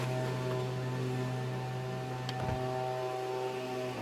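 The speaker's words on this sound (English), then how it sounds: "Sorry about the leaf blower noise." A leaf blower runs at a distance with a steady motorized drone, constant low hum and buzzing harmonics throughout, with no speech.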